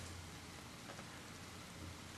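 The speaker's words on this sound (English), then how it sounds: "It's raining outside." Rain falling outdoors, a faint, steady hiss of drops on surfaces that continues unbroken with no voices.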